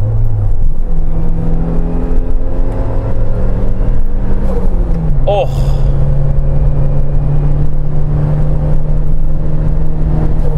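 A turbocharged Suzuki Jimny 4x4 drones loud and close as it accelerates, its engine note climbing steadily with a gear change midway and a brief whoosh, while someone briefly exclaims.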